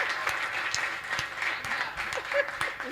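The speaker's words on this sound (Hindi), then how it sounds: "एक बार जोरदार तालियां बजा दीजिए आप" Audience applause at a Hindi comedy poetry gathering, a modest, steady patter of clapping held for a few seconds at a moderate distance, with faint voices mixed in.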